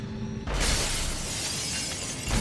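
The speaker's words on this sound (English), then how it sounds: "Yeah, and break the glass." Glass shatters loudly in Dead Space 2: a sudden crash about half a second in, followed by a scattered tinkle of falling shards and a second heavy impact near the end.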